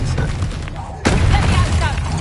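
Bombarda and Expelliarmus spells cast in Hogwarts Legacy, a sudden loud blast with a bright crackling burst about midway, set against busy game sound and a speaking voice.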